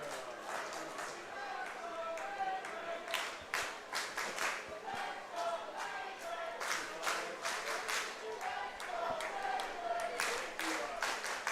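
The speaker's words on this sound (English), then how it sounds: "Majors fans cheering along here." London Majors baseball fans clap and cheer in the stands at an IBL game against the Barrie Baycats, a steady patter of many hands that runs beneath continuous play-by-play commentary.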